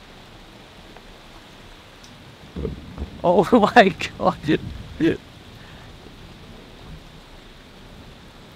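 Steady rain hiss from a stormy spell of weather runs throughout, with a person's excited exclamations briefly breaking over it midway.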